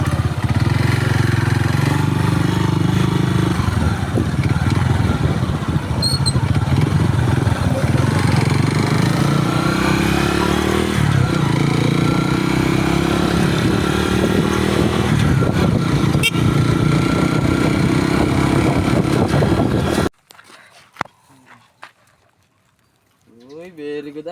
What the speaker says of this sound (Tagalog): Kargaan mo yung motor mo.